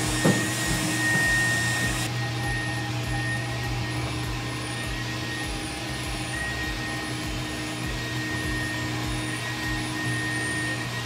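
An insulation blowing machine runs continuously nearby, a steady loud motor drone and airy rush with a faint repeating whine on top, with no talk.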